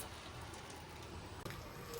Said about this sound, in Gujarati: મસ્ત વરસાદ પડી રહ્યો છે અહીંયા જોઈ શકો છો તમે.